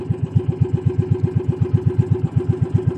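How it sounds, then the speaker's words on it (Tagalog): A troublesome, rain-soaked engine running after a hard start, with a steady rapid chugging pulse, loud and close with no talk. "Kasi nagpaluko yung makina ko. Tagal pinandar."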